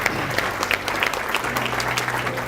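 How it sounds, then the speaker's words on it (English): Steady applause from an audience of new teachers at a talk on emotional intelligence, dense clapping filling the room for a couple of seconds with no voices over it. "Round of applause."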